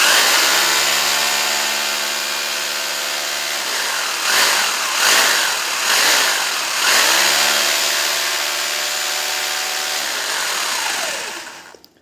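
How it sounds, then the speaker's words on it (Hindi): A 1000-watt electric drill runs on an inverter with a loud, steady motor whine. Its speed wavers and pulses briefly midway, then the whine winds down and stops at the end. "जो हमारा ड्रिल मशीन है उसको अभी चलाकर दिखाएंगे"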